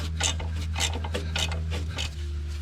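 Close metallic ratcheting and scraping of an 18 mm wrench tightening a passenger-side engine mount bolt on a Mercedes ML W163, a series of quick rasping strokes over a steady low hum, with no talk.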